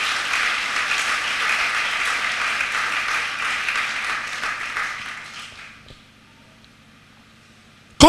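Church congregation applauding during a French and Lingala sermon, a dense sustained wash of clapping for about five seconds that fades out into near silence before a sharp sound at the very end.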